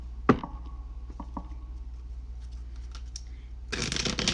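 Tarot card deck of flexible cards being shuffled, a short burst of riffling that starts near the end after a few scattered soft clicks and handling taps in a quiet room.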